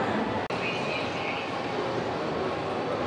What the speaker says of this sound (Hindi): okay so mamma and Ivan are going for a train ride, right